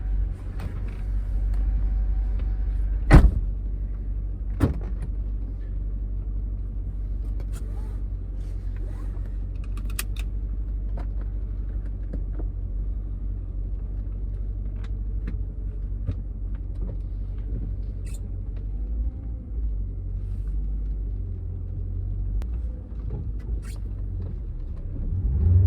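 A Mercedes C55 AMG with a manual transmission swap is driven on the road, heard from inside the cabin as a steady low engine and road rumble with a couple of brief knocks and no talking.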